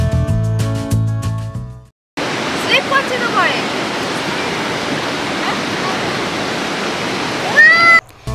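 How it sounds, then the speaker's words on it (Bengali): Surf washing onto Mandarmani beach at low tide, a steady broad roar of breaking waves heard close, preceded by a brief burst of music that cuts off. "এই হলো মন্দারমণির সমুদ্র সৈকত।"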